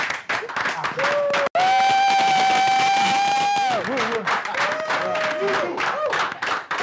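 An audience at a company anniversary launch event applauds to welcome the chairman, a crowd clapping and cheering beneath loud music with a sustained tone, while voices are heard through it.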